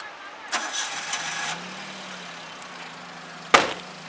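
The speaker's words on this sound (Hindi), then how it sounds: "गाड़ी को स्टार्ट करेंगे।" A car's engine cranks briefly near the start, then settles into a low, quiet idle, followed by a sharp close thump later on.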